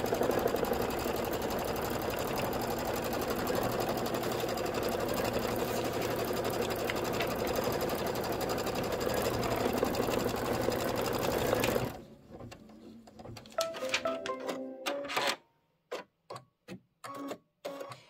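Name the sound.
embroidery machine doing quilting stitching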